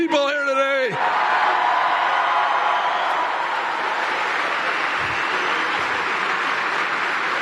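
Thousands of supporters at a Trump rally in Juneau, Wisconsin cheer and roar in a dense, sustained wall of crowd noise, following a brief amplified voice at the very start.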